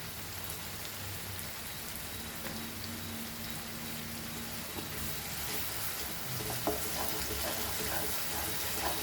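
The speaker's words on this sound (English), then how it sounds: "Fry the onion nicely. As it is frying, we will add little bit of ginger garlic paste" Onion frying with a little ginger garlic paste for stuffed brinjal masala gives a soft, steady sizzle and crackle, faint and continuous, with no voices.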